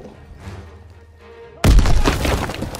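A grenade blows up in a World War II battle in a video game. A deep, loud boom hits after a stretch of faint voices and quiet background, then rumbles on through to the end.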